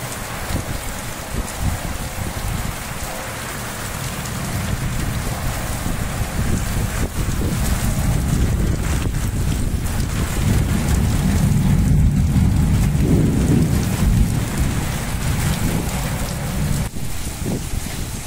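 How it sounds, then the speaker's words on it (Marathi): Heavy monsoon-season rain driven by stormy wind across Washim district, Maharashtra, a steady, dense wash of rainfall and wind rumble that swells slightly in the middle and continues throughout with no talking. "वाशिम जिल्ह्यात अनेक ठिकाणी वादळी वाऱ्यासह जोरदार पाऊस सुरू असून"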